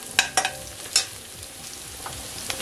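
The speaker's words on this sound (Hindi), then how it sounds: "इसको थोड़ा सा भूनते हुए, हमें ये काम सब लो फ्लेम पे ही करना है।" Ginger sautés on a low flame for rava upma, a gentle crackle in oil with a few sharp metallic clinks of a spoon against the pan early on, close and without talk.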